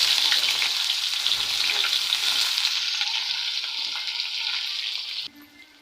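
Onion, mustard seeds and urad dal frying in hot oil for a pudalangkaai poriyal, a steady loud sizzle that holds throughout, then drops away abruptly near the end.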